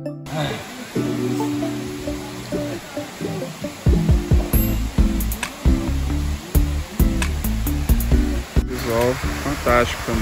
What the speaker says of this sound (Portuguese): E aqui é a cachoeira.